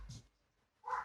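Two dogs barking at a back door, heard as a short bark at the start and another louder bark near the end, with a quiet gap between.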